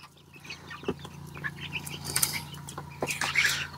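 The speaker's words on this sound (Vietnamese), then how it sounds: "Để bốc cái chuối cho gà ăn nữa" Large chickens flap their wings in short bursts while being fed banana, the flurries coming near and repeated over a quiet yard background, with a few faint clucks and no talking.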